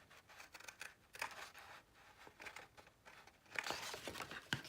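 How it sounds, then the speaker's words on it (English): Paper-craft scissors trim the corner off a scored sheet of paper for a mini album, giving a few crisp snipping cuts with soft rustling between, close and moderately quiet, with no talking. "I'm just trimming the corner off, not going past the score line."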